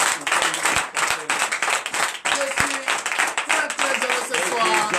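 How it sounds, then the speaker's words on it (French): A church congregation applauds loudly during a night prayer service, dense clapping from many hands with voices and cheering mixed in throughout. "Donc je vous demande d'applaudir très fort."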